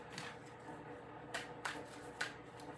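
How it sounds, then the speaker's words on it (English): A Revelations Tarot deck being shuffled by hand, the cards making soft, close papery riffles with a few louder snapping bursts against a quiet background. "So I'm going to give you a couple more shuffles."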